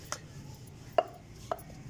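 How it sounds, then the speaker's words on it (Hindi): A rolling pin works small balls of roti dough for tandoori roti, giving three sharp, light knocks on the board, spaced about half a second apart, in an otherwise quiet room. "तो रोटी को हम अच्छी तरीके से बेल लेते हैं"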